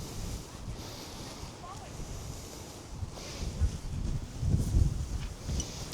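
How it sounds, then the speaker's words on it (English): Steady wind rumble in a garden buffeting the microphone, with low gusts swelling louder toward the end. "It's quite a windy day"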